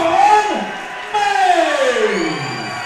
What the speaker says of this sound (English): Here's a big crowd ovation from King Kong.